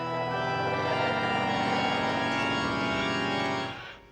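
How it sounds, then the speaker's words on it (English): Haunted House car horn from Forza Horizon 5 sounds as a dense, sustained harmonic chord-like blare with many layered tones, held steadily for about three and a half seconds before fading out, with no talking. "we've got the Haunted House car horn, which sounds a bit like this."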